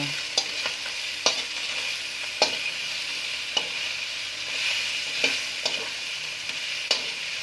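Sautéed onions for adobo stirred in a hot pan, a steady sizzle with regular spoon scrapes and knocks every half second or so, close and fairly loud with no voices.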